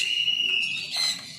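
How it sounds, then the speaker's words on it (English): Aviary staff whistle to call parrots to feeding time: brief, high, piercing whistle tones sound close by, one held note and then a second short burst, with no talk. "that's because we whistle before we feed"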